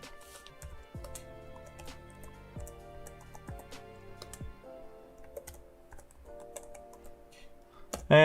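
Keystrokes on a computer keyboard tap out a Linux terminal update command, a run of close, crisp clicks in an uneven rhythm with brief pauses, alone and fairly quiet.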